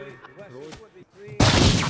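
People exploding like firecrackers in the video game Teardown: a voice talks and exclaims, then a sudden loud crackling burst erupts and keeps sizzling and popping to the end.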